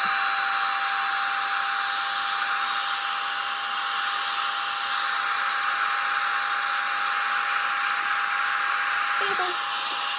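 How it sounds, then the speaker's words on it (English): A heat gun blows hot air at a candle jar to loosen the wax, giving a loud, steady whine and rushing roar with a constant tonal hum, close and unbroken from start to finish. "I'm going to use my heat gun to heat this out of the jar and the top."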